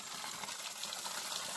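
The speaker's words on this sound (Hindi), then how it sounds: "ये झरने की शक्ल में ऊपर से नीचे की तरफ गिर रहा है।" Spring water pours from above in a waterfall-like stream, producing a steady, dense hiss of splashing that stays even and continuous throughout.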